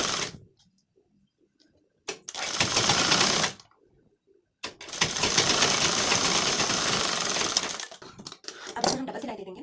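A sewing machine stitches tucks on a blouse in two long runs, a short burst followed by a longer steady whirr, with quiet pauses between and a few brief stitches at the end.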